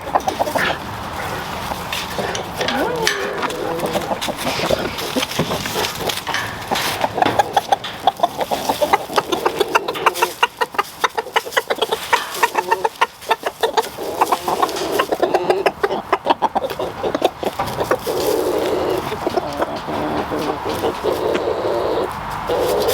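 Chickens cluck and squawk steadily, with roosters among them, a dense overlapping barnyard chorus, loud and close throughout.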